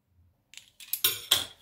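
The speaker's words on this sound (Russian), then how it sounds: "Хорошо прижимаем и нарезаем." A knife slices through filled puff pastry dough on a board, giving a few quick, close clicking cuts about a quarter second apart against near silence.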